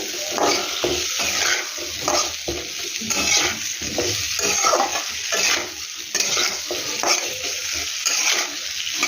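Spices with turmeric fry in a pan for a fish curry while a utensil stirs them, giving a close, continuous sizzle broken by rhythmic scraping strokes.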